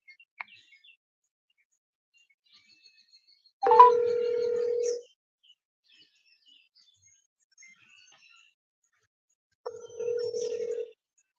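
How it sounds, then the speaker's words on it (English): A tablet rings with an incoming phone call, a steady electronic ring tone heard as two separate bursts, one of about a second and a half and a later shorter one, in an otherwise quiet room. "I'm calling her and it's ringing in on her tablet"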